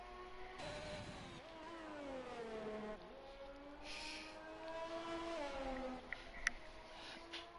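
Several race cars lap the Imola circuit in a racing video game, their engine tones whining and sweeping up and down in pitch as they shift and pass, steady and mid-distance throughout.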